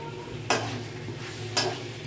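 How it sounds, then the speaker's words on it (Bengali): Raw prawns being stir-fried with potatoes and spices in a pan, a soft steady sizzle under two sharp spatula scrapes about a second apart. "এবার আবার ভালো করে আলুর সাথে চিংড়ি মাছগুলোকে ভালো করে ভেজে নেব।"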